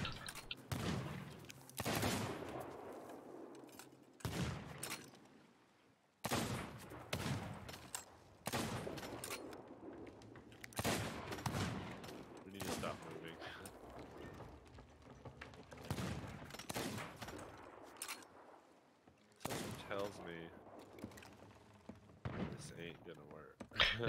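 Bursts of video game gunfire from several players shooting together at a target, repeated volleys and thuds spread across the stretch, with players talking over the shots.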